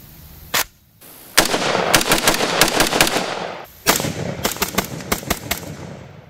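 Rapid strings of loud, sharp rifle shots from an HK SR9 chambered in 7.62x51, fired at a range in two bursts of many quick reports with echoing tails between them.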